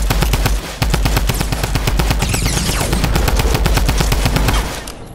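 Sustained automatic rifle fire in a Fortnite match, a long, fast, evenly spaced string of close, loud shots that drops off near the end.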